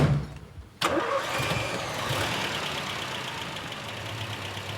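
A vintage Jeepster engine turns over and catches abruptly, then settles into a steady, close idle that continues to the end.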